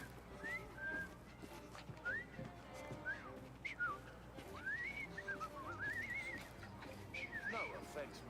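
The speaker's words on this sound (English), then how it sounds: "I've just learned to whistle." A character in Assassin's Creed Syndicate whistles a wavering, rising-and-falling tune in short phrases, soft and close, set against low background ambience.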